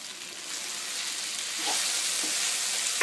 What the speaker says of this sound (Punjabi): ਹੁਣ ਅਸੀਂ ਚੱਕ ਕੇ ਦੇਖਾਂਗੇ ਸਬਜ਼ੀ ਨੂੰ ਹਿਲਾ ਕੇ ਦੇਖ